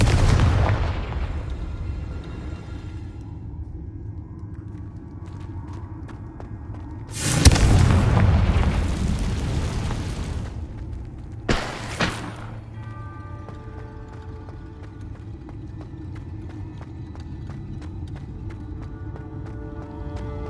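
Bombarda and Confringo spells explode in Hogwarts Legacy: a booming blast, a second heavy explosion with a long crackling tail, then a sharp quick burst, all over low game ambience.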